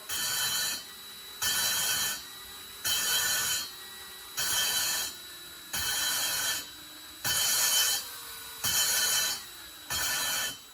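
A drill lapping an exhaust valve with abrasive compound on an LS cylinder head whirs in eight short, even bursts with brief pauses between, a gritty grinding rasp riding on each burst, close and fairly loud.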